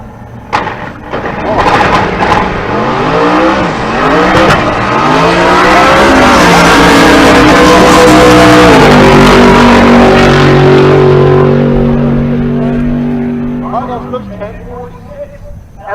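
A naturally aspirated big-block Cutlass drag car with a single four-barrel carburetor, roughly 580 cubic inches, launches at a race-day strip and roars loudly up through rising engine pitch for many seconds before fading, with an announcer talking over it.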